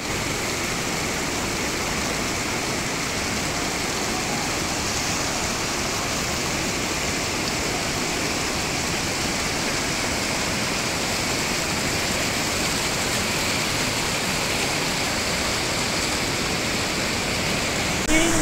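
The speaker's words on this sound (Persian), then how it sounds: "آبشار تونل آبشار آبملخ فوق‌العاده است." Ab Malakh waterfall in Iran, a tunnel-like falls in the mountains, roaring steadily and loudly at close range with a dense, unbroken rush of water throughout.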